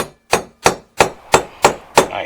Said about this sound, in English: finish driving the second wheel bearing all the way home with that driver and hammer